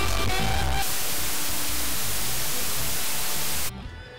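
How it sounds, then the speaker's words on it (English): Flat dither noise, a steady broadband hiss like static, plays alone at an even level and cuts off abruptly near the end, leaving faint low residue. "Here's a kind of dither, flat dither."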